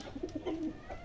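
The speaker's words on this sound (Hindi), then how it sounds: "इधर कबूतर हैं, अपना दाना पानी जो है ना खा चुके हैं" Pigeons that have just eaten their grain coo close by, giving a short run of soft, low, throaty coos with no speech.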